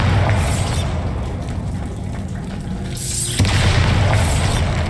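A Bombarda blasting spell goes off in Hogwarts Legacy with a loud, sustained booming roar and rumble. A second surge of blast noise comes a few seconds in, with no voices.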